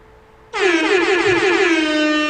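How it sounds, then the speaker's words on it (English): A loud air horn sound effect blares suddenly after a brief quiet moment, one long sustained blast holding steady to the end, dropped in to celebrate a podcast episode milestone. "Hit the air horn on that."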